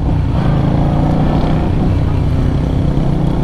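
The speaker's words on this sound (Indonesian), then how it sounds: "tapi lumayan lah dapat ciri khas suara V-twinnya" A 2022 Keeway V250Fi motorcycle's V-twin engine runs with a loud, continuous throaty drone, held up close and steady throughout, with no voices.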